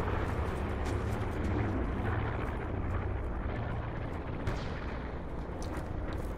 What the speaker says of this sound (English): There's someone shooting from our left.